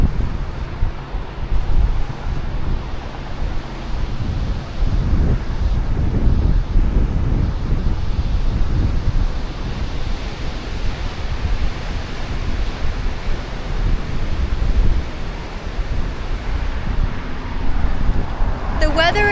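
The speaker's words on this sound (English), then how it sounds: "Look how windy it is." Strong wind buffets the microphone at Paramount Ranch in Malibu, a constant roaring rumble with gusts, while a voice talks intermittently underneath.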